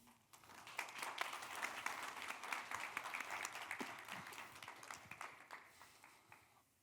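Audience applause after a keynote talk at the Seoul Future Conference, a fairly faint, steady patter of many hands clapping that swells and then tapers off at the end.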